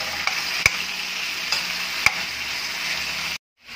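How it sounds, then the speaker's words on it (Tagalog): Chayote stirred into a pan of sautéed tomato, garlic and onion gives a steady close sizzle punctuated by a few sharp clanks of a spatula against the pan, ending in sudden silence. "Haluin lang natin yan."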